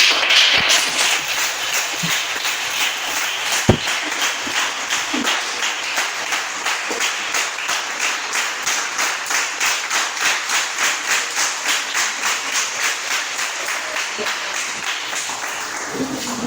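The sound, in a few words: church congregation applauding for mothers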